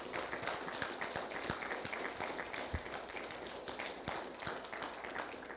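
A church congregation applauds during a sermon, a continuous patter of many hands clapping, quiet and somewhat distant, with a few sharper claps standing out.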